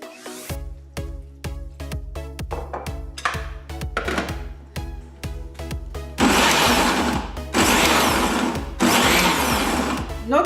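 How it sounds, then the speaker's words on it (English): A kitchen blender chops sliced okra with water in short, stop-start pulses, then runs in a few longer, louder whirring bursts with brief pauses between them. "Notice I'm trying to stop in between blending because I do not want it all smooth or too pureed."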